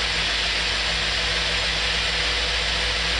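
A car engine fitted with a Ford Autolite carburetor runs at a steady idle, a close, even hum with a broad noisy texture and no change in pace.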